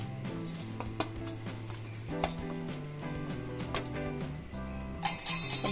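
Spiced paneer filling stirred together in a bowl, giving soft scraping and light clinks of a spoon against the bowl beneath continuous background music, with a few sharper taps near the end.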